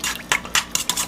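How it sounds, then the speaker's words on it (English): A metal spoon scrapes and clinks against a bowl while honey is worked off it, four or five quick, sharp scraping strokes in close succession, close and fairly loud with no talking. "I get my honey off my spoon here."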